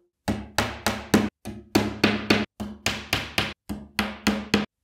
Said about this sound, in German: 4 weitere Holzdübel von oben hineinklopfen.